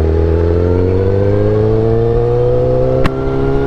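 A 2008 Suzuki GSX-R 1000 fitted with velocity stacks and a new fuel pressure regulator, riding past close and loud with a steady, rising engine drone and one sharp snap near the end.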